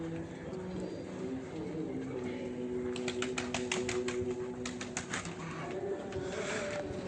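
A racing pigeon comes home to its loft during a race, with wing flaps and soft cooing over a steady outdoor background and low murmured talk.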